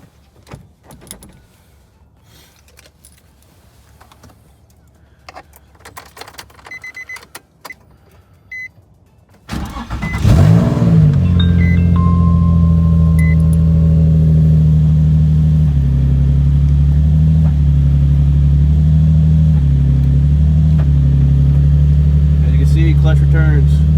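A Nissan 350Z with a new clutch starts up and settles into a steady, loud idle after a quiet stretch of small clicks and handling noises, the engine running evenly and close to the microphone.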